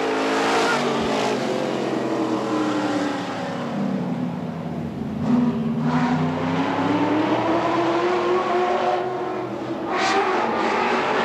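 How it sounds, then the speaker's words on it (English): Race cars roaring around the oval at Tri City Motor Speedway, engines droning loud and steady with rising and falling pitch as the field accelerates out of a turn, no talk over the noise. "Out of turn five, we are racing."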